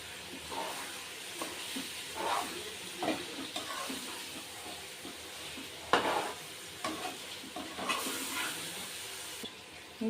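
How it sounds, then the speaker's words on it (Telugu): Mutton and spices sizzle and fry in hot oil while a spoon stirs them, giving a steady crackle with periodic scraping strokes against the pan, close and fairly quiet, with no talking. "మటన్తో పాటు ఇది కూడా నూనెలో బాగా మంచిగా వేగుద్ది"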